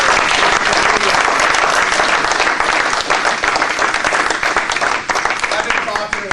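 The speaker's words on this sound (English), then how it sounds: "give some applause to Shane and Joe for flying out to Denver" A crowd gives loud, full applause for two guests at a Denver event, a thick continuous roar of clapping from many hands, close and sustained with faint voices underneath.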